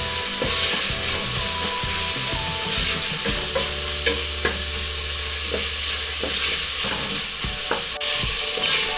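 Onions sautéing in a pan for beef pares, a continuous close sizzle with frequent scraping and knocking of a spatula stirring against the pan.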